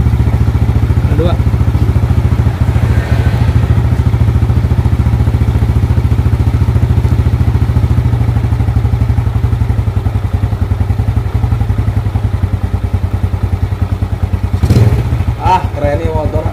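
A Yamaha Jupiter Z-type moped engine, following a piston replacement, runs in a steady, loud, close idle with a continuous low throb and rattling clatter; a brief rev and clunk occur near the end, with voices faintly present.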